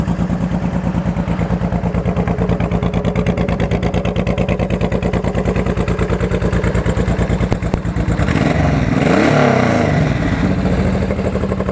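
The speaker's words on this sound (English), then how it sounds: "Fires right off, and engine sounds good and tight." A Honda VTX1800 motorcycle with about 96,000 miles idles steadily nearby with a tight, even thump. A louder rev then rises and falls near the end, and there is no talk.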